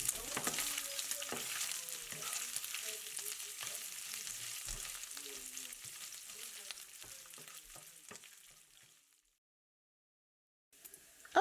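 Bacon frying in a pan sizzles steadily with faint crackles and small stirring knocks for about nine seconds, then cuts to silence before a brief return of noise at the end.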